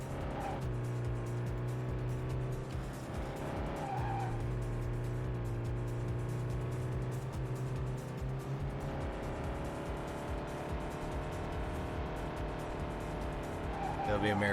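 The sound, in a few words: car driving in Vanishing Point, Dreamcast racing video game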